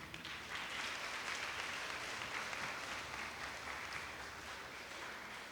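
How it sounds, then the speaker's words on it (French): Steady applause from a church congregation during a televised Sunday Mass, a dense, even wash of clapping lasting several seconds without talk. "nous les applaudissons aussi"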